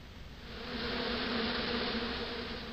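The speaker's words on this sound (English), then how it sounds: "Those hornets were not pleased." Hornets buzz in a steady, droning swarm in the point-and-click adventure game Broken Sword II, swelling louder after a moment and holding close and constant without speech.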